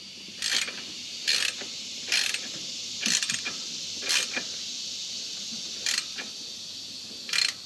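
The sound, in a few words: ratchet tightening bolt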